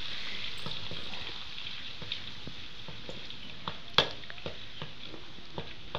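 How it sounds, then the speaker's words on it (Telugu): Ginger garlic paste fries in hot oil for a mutton pickle, giving a soft steady sizzle with scattered crackles and a sharp pop or two. No voices. "ఇక ఇదే వేడి మీద అల్లం వెల్లిపాయ వేసుకోవాలి"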